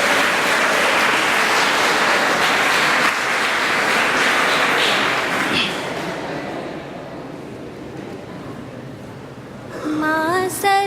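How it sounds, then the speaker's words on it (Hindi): An audience applauds loudly to welcome a schoolgirl performer at a poetry gathering, steady clapping that gradually thins and fades, ending with a few musical tones. "तो जोरदार तालियों के साथ स्वागत किया जाए।"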